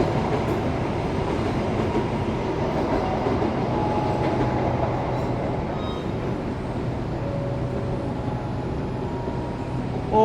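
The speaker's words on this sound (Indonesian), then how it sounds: "itu dia kereta api Argo Muria melintas langsung stasiun Cikampek" Argo Muria train running straight through Cikampek station without stopping, a steady loud rumble of wheels and carriages rolling past close by for the whole stretch, with a faint tonal squeal partway through.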